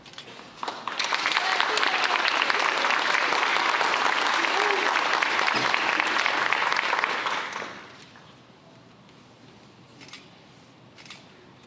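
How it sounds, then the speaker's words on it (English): Applause at a high school spring signing day, a crowd clapping loudly and steadily for about seven seconds before fading to quiet room noise with a few scattered sounds. "let's give her one more round of applause here"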